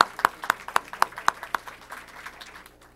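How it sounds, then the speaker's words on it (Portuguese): A small group claps for a debater at a panel on shared custody and parental alienation: a handful of crisp, evenly spaced claps near the listener, thinning into scattered softer ones before fading out. "Uma salva de palmas ao doutor Faveri."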